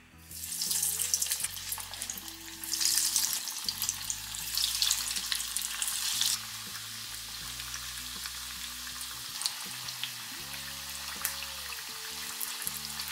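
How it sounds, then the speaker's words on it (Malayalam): Food deep frying in hot oil in a pan over a medium flame, a steady crackling sizzle that is busier for the first six seconds and then settles, with brief clinks and no talk. "അപ്പോൾ നല്ല ചൂടായിട്ട് വരുമ്പോൾ മീഡിയം ഫ്ലെയിമിൽ ഇട്ട് കൊടുത്തിട്ടാണ് നമ്മൾ ഫ്രൈ ചെയ്യുന്നത്"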